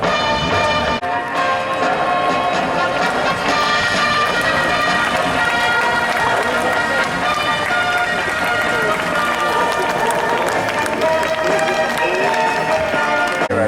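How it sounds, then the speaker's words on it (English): Crowd applause and cheering rise for a winning historic stock car driver on a lap of honour at Arlington, a steady dense wash filling the whole stretch with engine and PA noise mixed beneath. "For your applause on his lap of honour"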